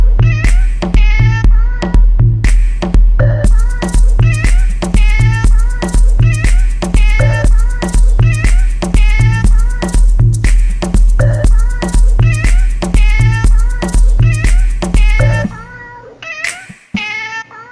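A cat's meow sounds out repeatedly in a loud, rhythmic pattern set over a steady thumping beat, running without pause before cutting out near the end.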